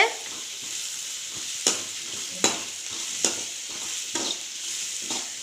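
Carrot and bean poriyal sizzles and browns in a pan, a constant frying hiss broken by several sharp ladle knocks and scrapes against the pan at irregular intervals.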